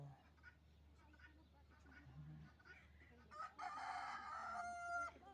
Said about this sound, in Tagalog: Yun daming manok na sa labas lang